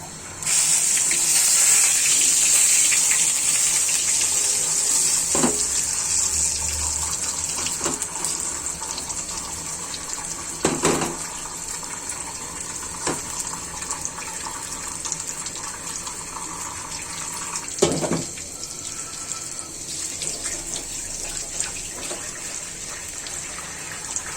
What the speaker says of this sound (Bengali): দেখুন তেলটা গরম হয়েছে আমি ছেড়ে দিচ্ছি ডিমটা